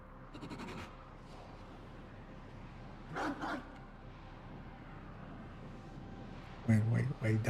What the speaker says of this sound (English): Wait, dog sounds?